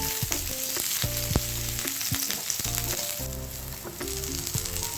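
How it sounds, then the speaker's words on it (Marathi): A large chopped onion sizzling steadily in hot oil in a pan for misal, a continuous loud fry with occasional stirring clinks and scrapes, no voices. "हा कांदा आपल्याला सोनेरी रंग येईपर्यंत भाजून घ्यायचा आहे"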